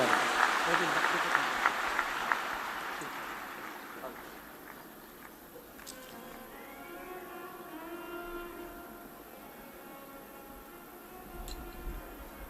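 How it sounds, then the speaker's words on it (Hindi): An audience claps at a live Hindu religious discourse, a brief loud burst of applause at the start that fades quickly into a low murmur with a voice speaking over it. "एक बार जोरदार ताली बजाता।"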